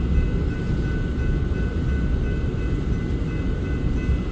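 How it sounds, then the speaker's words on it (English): A loaded southbound coal drag freight train passes close by, a continuous heavy rumble and clatter of rolling wagons with faint high squealing tones above. "We got a southbound, that's the one right in front of us, the coal drag"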